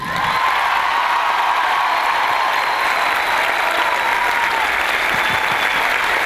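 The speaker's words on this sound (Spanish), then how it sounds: "les quiero pedir un aplauso especial primero para los talentos de Varela" Loud, sustained audience applause at a school theatre performance of Dracula, steady dense clapping filling the whole stretch with a faint crowd murmur beneath.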